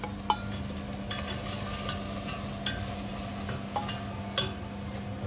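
Pumpkin sautéing with seasoning in a pan for Jamaican turn cornmeal, a constant low sizzle with a steady hum and occasional light clicks of a utensil, no speech.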